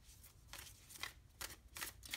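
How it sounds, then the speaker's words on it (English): Playing cards shuffled and drawn for a tarot reading, giving a run of soft papery riffles and slides that come in several short bursts, with no voice. "Let me pull some clarifying cards here."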